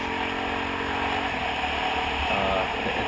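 A 2005 Kawasaki KLX dirt bike engine running steadily at moderate, even revs, close and continuous, with no talk over it.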